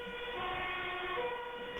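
A wailing emergency siren, likely an ambulance, holds steady tones throughout at moderate loudness, with no talk over it.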